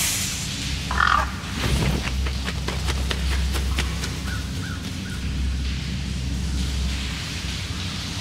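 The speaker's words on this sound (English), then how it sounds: "Nasty bird. It watches us." A bird caws in the game The Lord of the Rings: Gollum, giving a short series of harsh calls close by over a low, steady ambient drone.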